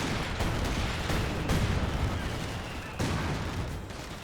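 Bundle grenade blasts and gunfire in a Company of Heroes 2 battle, a constant rumbling wash of shots and explosions with sharper booms standing out, moderately loud and without talk.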